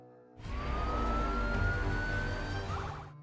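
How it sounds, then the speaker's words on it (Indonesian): An ambulance siren cuts in suddenly and wails with a slowly rising tone over the low rumble of traffic. "Setelah itu, Casey menyuruh ketiga gadis masuk ke dalam ambulan."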